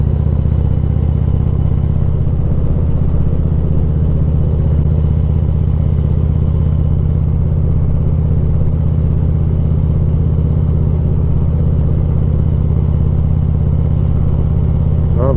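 A new Harley-Davidson Street Glide motorcycle rides through Niles Canyon, its engine holding a loud, steady, continuous drone with rushing wind throughout.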